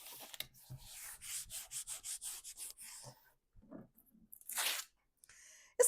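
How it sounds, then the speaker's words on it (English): Duct tape being pressed and peeled across a fluffy sewing mat, producing quiet, close rubbing and tearing rasps in a rough rhythm, then a longer rip and a brief pause. "I have a whole roll of duct tape, and look how much fluff it is getting out of my mat"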